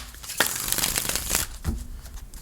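Tarot cards are shuffled by hand, a close, soft riffle of crisp papery flicks and rustles in quick bursts, with no talk.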